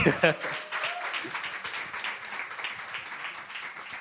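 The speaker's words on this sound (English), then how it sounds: "Can we give Rennie another round of applause" A modest round of applause rises from the audience at a financial literacy event, even clapping sustained under brief voices after a short spoken line at the start.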